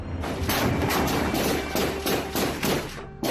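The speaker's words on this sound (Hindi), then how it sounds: "गोलियों की आवाज" A rapid string of loud gunshots during a security forces encounter with militants in Jammu and Kashmir, one about every half second, sounding harsh and dense with echoing crackle.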